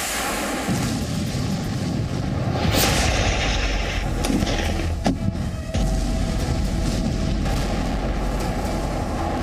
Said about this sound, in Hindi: कहीं बमबारी, कहीं ड्रोन अटैक, कहीं मिसाइल वॉर।